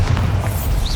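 A spell blast in the Hogwarts Legacy video game, a low booming explosion filling about a second of loud, rumbling sound with no talk.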